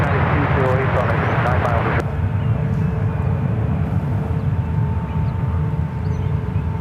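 An airliner at San Francisco airport gives off a broad, continuous jet roar that is moderately loud and close, easing slightly after the first couple of seconds, with a voice talking over it.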